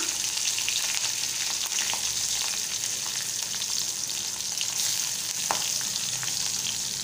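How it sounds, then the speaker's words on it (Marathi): Garlic cloves, green chillies, curry leaves and onion fry in hot oil for a boiled potato vegetable dish, a constant close crackling sizzle with faint stirring clicks and no speech. "कांदा, आता चांगलंसं तेलात परतून घेणार आहे मी"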